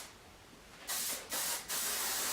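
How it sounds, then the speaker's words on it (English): A hairspray can fires onto a person's hair in three short bursts of hissing spray, close and loud, with brief pauses between them. "I'm going to spray her hair actually first"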